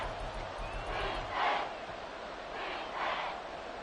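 Football stadium crowd with fans on their feet during a tense fourth-quarter third down, a loud sustained roar that swells in two waves, with play-calling voices underneath.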